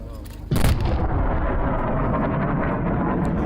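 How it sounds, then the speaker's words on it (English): A supersonic plane's sonic boom hits as a sudden loud, close blast, then gives way to a long, heavy rumbling roar that carries on to the end. "And that is what you call a sonic boom."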